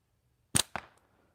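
An air gun shot striking a tire target outdoors: two sharp, close impacts about a fifth of a second apart, the second slightly softer with a short fading tail, surrounded by quiet.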